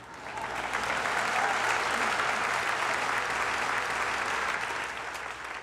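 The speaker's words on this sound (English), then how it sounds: "This unnamed movement, you can clap for that." Audience applause after a speech, a dense, steady wash of many hands clapping that swells, holds at full strength for several seconds, then begins to taper, with no voices over it.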